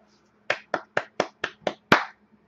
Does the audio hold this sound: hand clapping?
yes